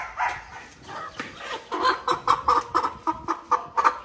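Chickens of various breeds, including fighting-cock stock, males and females, clucking repeatedly at close range on a farm, a rhythmic series of short calls that quickens and grows louder toward the end.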